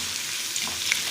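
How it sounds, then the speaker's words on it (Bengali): Cabbage pakora frying in hot oil makes a soft, even sizzle as the fritters are turned over, heard alone in a short burst with a few faint clicks. "ভাজা হয়ে গেছে, আমি এবার উল্টে দিচ্ছি।"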